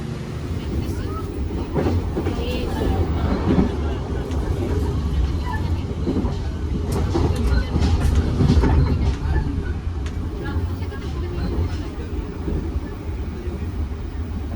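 Pasundan Lebaran economy passenger train on its rails, a steady low rumble with faint clatter throughout, heard from inside a carriage with some background chatter.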